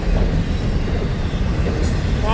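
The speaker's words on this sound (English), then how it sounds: "Long train." A long, combined train rumbles past at close range in St. Augustine, Florida, with steady low rolling noise and a faint squeal of wheels near the end.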